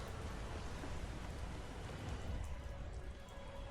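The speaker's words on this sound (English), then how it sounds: "And it's still raining." Rain falling in Skyrim, a steady, even hiss of rainfall that is faint and continuous, with no voices over it.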